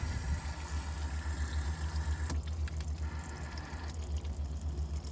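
Water is fed slowly from an irrigation line into a hygger pond pump being refilled, making a steady, close bubbling and gurgling wash with a couple of brief sharper splashy bursts.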